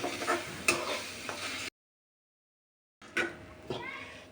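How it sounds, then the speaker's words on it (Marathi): Moong dal stir-fried on full flame for halwa gives a close sizzle with spatula scrapes and knocks, broken by a gap of silence before the frying and stirring resume; a voice is faintly present. "फुल गॅसवर छान मस्त पूर्ण लाल होईपर्यंत परतून घ्यायची आपल्याला डाळ"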